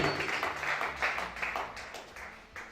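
A congregation at a church service applauds in a loose, moderately loud burst of clapping that swells and fades in uneven waves.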